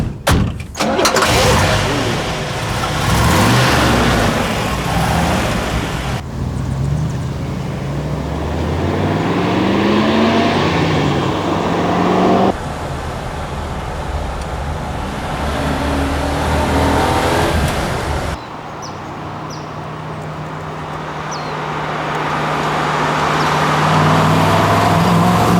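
An early 1960s Chevy engine cranks and catches, then settles into a loud, rumbling idle with rising revs, heard close up across several cuts, with a steady throaty drone throughout.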